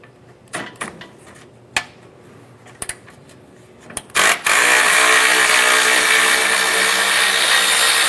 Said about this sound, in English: Using a 10mm socket, we're going to go ahead and remove our lower fan bolts here.